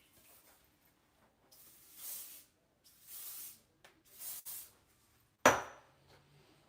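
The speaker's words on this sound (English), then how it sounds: "I hit it with a little hairspray" Hairspray sprayed onto hair while styling a quick weave: three close, breathy hissing bursts of about a second each, then a sharp clack near the end.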